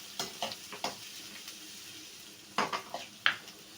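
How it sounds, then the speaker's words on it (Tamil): Onion, ginger and garlic being stirred and fried in a pan, with scattered scraping stirs and light sizzling bursts clustered in two groups, close and moderately quiet, no talking. "அதை கூட வெங்காயம் பொடிசாக நறுக்கினதை சேர்த்து விட வேண்டும்."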